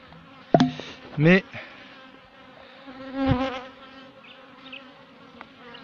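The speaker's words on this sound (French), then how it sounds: "Je vais aller sauver cette petite abeille." Honeybees buzz around a hive housing a swarm from a split, a close, uneven insect drone with a couple of louder passes, while a voice briefly speaks.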